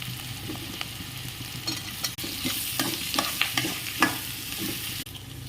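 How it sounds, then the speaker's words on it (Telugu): Okra pieces fry with onions and curry leaves in a pan, a steady sizzle under repeated scraping stir strokes from a spatula, close and moderately loud, with no talking. "ఇప్పుడు బెండకాయ ముక్కలు కూడా వేసుకొని కాసేపు మగ్గనిద్దాం"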